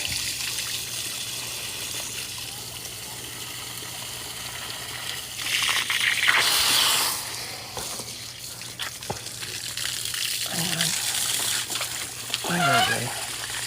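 A garden hose sprays water onto a rose bush and other plants in a spring garden, a soft intermittent splashing and trickle that swells midway, with a voice speaking at times.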